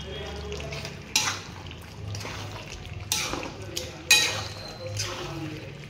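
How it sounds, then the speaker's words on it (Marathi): Yogurt being whisked in a bowl before going into a spicy chicken curry: soft stirring and scraping with a few sharp clinks of a utensil against the dish, heard under a person talking. "दही टाकताना ते फेटून घेऊया आणि नंतर टाका"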